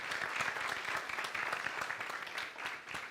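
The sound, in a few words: applause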